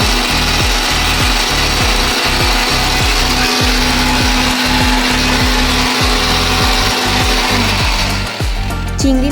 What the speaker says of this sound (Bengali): পটলের ভেতরের অংশটা, একটা কাঁচা লঙ্কা, 2 টুকরো আদা, 3 কোয়া রসুন, অর্ধেকটা পেঁয়াজ, 1 চামচ নুন আর 1 মুঠো মতো চিংড়ি মাছ নিয়ে ভালো করে পেস্ট বানিয়ে নিই।